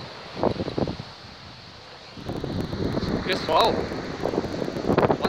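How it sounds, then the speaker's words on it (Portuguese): Strong wind at sea during a fishing trip buffets the microphone in loud, gusty rumbles, rising and falling in waves while someone speaks. "Tá ventando demais, pessoal."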